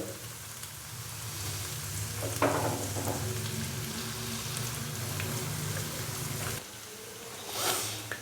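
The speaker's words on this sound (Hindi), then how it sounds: "अदरक और लहसुन के पेस्ट को हल्का सा फ्राई कर लेंगे ताकि इसका कच्चापन ख़त्म हो जाए।" Ginger garlic paste frying in a pan for a lady finger okra curry: a steady close hissing sizzle with soft crackles, plus a couple of brief scraping stirs and a short swell near the end.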